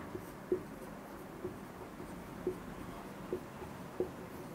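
A teacher writes an answer on the board, a faint series of light, evenly spaced taps and strokes in an otherwise quiet room.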